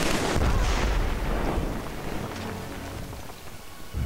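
A grenade goes off in the Killzone 3 shooter game: a loud, close blast at the start that rolls into a long rumbling decay, with another sharp burst near the end.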